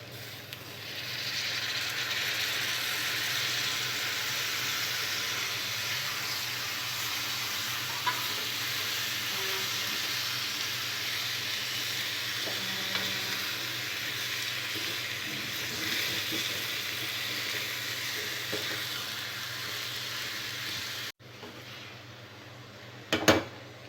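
Potato and tomato pieces cook in a pan for an aloo tomato curry with green chillies, giving a steady, even sizzle that runs close and constant, then cuts off near the end with a brief clatter.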